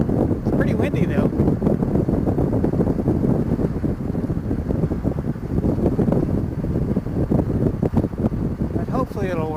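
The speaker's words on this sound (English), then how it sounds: "It's pretty windy though." Heavy, steady wind roar buffets the microphone while riding a Goldwing motorcycle with the helmet shield stuck open, a loud broadband rush like highway speed, with brief voice fragments at the edges.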